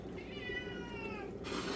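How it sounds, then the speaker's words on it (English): A house cat meows in a long, drawn-out call lasting over a second, close and fairly loud above steady low background noise, with no talking. "You only come over and meow when it's..."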